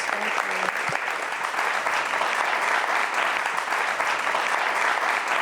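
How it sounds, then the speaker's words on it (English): A standing audience gives sustained, even applause for Samaria Rice, with dense clapping that fills the room and does not break off. "give Miss Samaria Rice a round of applause"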